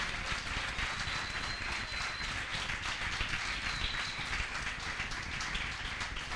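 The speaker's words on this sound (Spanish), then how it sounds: "Fuerte el aplauso al Señor." Steady, dense applause from a church congregation, a continuous wash of clapping that stays even and fairly loud throughout.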